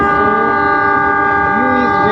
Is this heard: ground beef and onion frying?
no